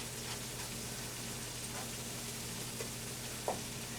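Onions browning with flour in a pan, a soft continuous sizzle with small pops and a brief utensil tap near the end, quiet and without talk.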